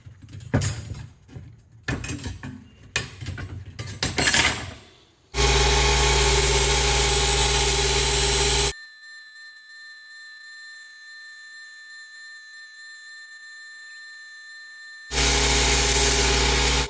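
A short section of sawmill blade is sharpened on its end for a pear-picking pole, with loud, steady grinding in two sustained bursts separated by a quieter ringing hum and preceded by scattered clattering handling noises.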